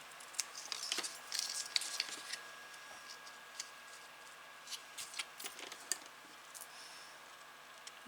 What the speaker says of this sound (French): ce petit coup de ciseau